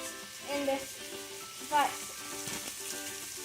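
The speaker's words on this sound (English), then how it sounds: "now stir fry beef" Beef sizzles and crackles in a pan while stir-frying for Pad Kee Mao, with a couple of brief stirring scrapes, fairly close and moderate in volume.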